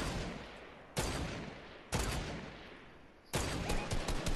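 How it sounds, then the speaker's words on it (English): Loud, close gunshots in the battle royale game Fortnite come as a few sharp blasts about a second apart, each followed by a dense, decaying burst of noise, with no talking. "Oh, that someone just shot at me"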